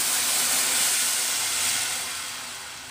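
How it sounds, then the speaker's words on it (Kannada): Watermelon juice meets hot oil tempered with mustard seeds, fenugreek, cumin and dried red chillies, giving a loud, continuous close-up hiss that fades slightly toward the end. "ರಸ ಆ್ಯಡ್ ಮಾಡ್ಕೊಳ್ಳಿ."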